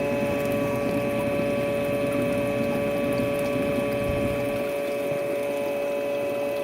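Water trickles through a tank overflow in a nutrient reclamation system, a steady low wash with a constant pump-like hum running alone throughout.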